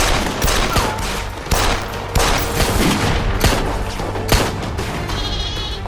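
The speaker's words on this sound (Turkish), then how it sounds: "Silah sesi mi o?" Bursts of gunfire crack repeatedly at varying distances amid noisy commotion, sharp loud shots scattered through the scene.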